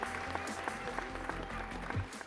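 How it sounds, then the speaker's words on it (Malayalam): An audience claps at a 25th-anniversary celebration of Aashirvad Cinemas, with dense, fairly rhythmic applause over a low musical backing for a couple of seconds. "A round of applause once again for being such a wonderful audience"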